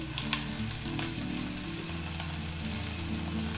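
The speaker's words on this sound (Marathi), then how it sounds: "तेल बघा गरम झालं आहे, त्यात टाकते पहिला राई" Mustard seeds and garlic sizzle in hot oil, giving a loud continuous frying hiss with scattered pops and crackles, while a low background hum runs underneath and no one speaks.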